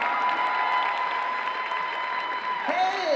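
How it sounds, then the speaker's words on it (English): Crowd applause at the 2019 Planet Comicon cosplay contest: a steady wash of clapping from a large audience at moderate level, with a sustained electronic tone running underneath. "Round of applause for that, ladies and gentlemen."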